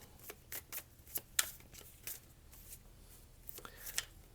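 Tarot cards being shuffled and drawn during a reading, heard as soft, scattered papery flicks and riffles spread across the moment, fairly close but quiet.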